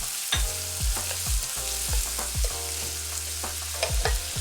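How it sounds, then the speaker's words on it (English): Ginger fries in hot oil in a wok for a ginger scallion sauce, a steady close sizzle broken by regular metal stirring strokes and scrapes, with no voices. "Cook the ginger for about 15 seconds before adding the green onions."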